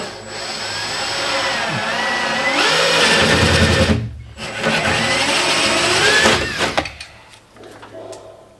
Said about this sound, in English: That is where I need to drill